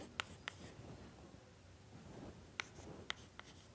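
Chalk or marker tapping and scraping on a classroom board during a numerical methods lecture, faint with a few sharp clicks spaced irregularly over quiet room tone.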